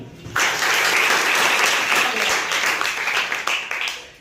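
A class of students claps together for a correct answer in a maths lesson, a sudden burst of dense clapping that stays even and fairly loud before breaking off at the end.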